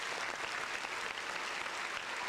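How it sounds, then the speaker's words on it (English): Steady applause from an audience at a podcast taping, dense and continuous clapping filling the whole stretch at an even level. "Round of applause"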